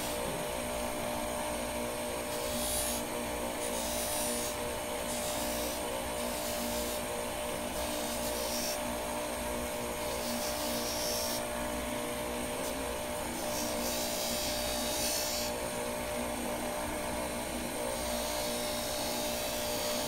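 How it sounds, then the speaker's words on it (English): A polishing machine runs steadily on a stainless steel signet ring, producing a continuous loud whirring drone with a high hiss that rises briefly in repeated bursts as the metal is pressed against the wheel. "here just basically polishing until it gets hot, dipping it, and polishing it some more"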